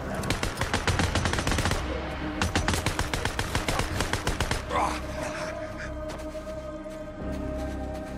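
Rapid bursts of automatic gunfire aimed at the player in the video game Days Gone, dense volleys in the first half then scattered shots over a steady ambient rumble, with a voice reacting briefly.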